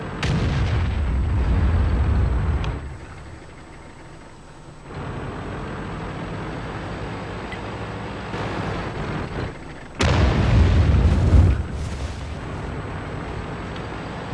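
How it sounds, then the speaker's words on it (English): Artillery fire in a tank video game, played in an AMX 30, lands as several heavy booming blasts with rumbling tails, one near the start and another sharp loud impact later, among steady engine drone. "We have artillery."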